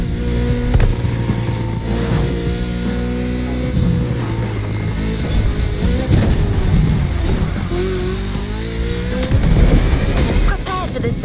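A Ford Mustang Boss 429 muscle car in The Crew Motorfest rumbles with a deep, loud engine note. The pitch shifts as the car revs and changes gear, with a spoken voice over the top.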